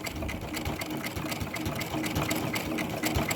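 Sewing machine stitching a herringbone pattern on a crazy patch purse with 50 weight thread, running steadily and evenly at close range with a rapid mechanical chatter, no talking.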